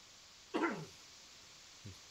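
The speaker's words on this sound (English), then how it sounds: "Sorry, I got a cough." A single sharp cough bursts out close by, followed after a pause by a short low throat-clearing grunt; nothing else breaks the quiet room.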